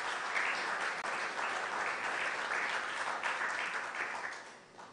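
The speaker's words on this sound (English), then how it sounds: "I want you to give him a round of applause for that" Steady applause from the audience at the opening ceremony of a biennial conference of presiding officers and clerks in Tobago, sustained dense clapping that fades toward the end.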